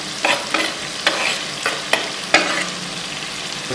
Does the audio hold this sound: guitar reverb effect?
no